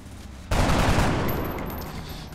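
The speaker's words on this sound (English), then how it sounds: "Gaurav, just take your pot shot, see if we can save a rocket" Gunfire in the turn-based strategy game XCOM: Long War, a sudden loud burst of shooting that holds as a dense, sustained roar for about two seconds before easing slightly.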